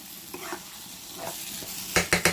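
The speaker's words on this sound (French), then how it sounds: "vous sentirez qu'il n'y a plus d'eau du tout dans la sauce et que c'est en train de vraiment frire" Minced meat sauce frying in a pot once all the water has cooked off, a close sizzle under scraping spoon strokes, ending in three loud metallic knocks against the pot.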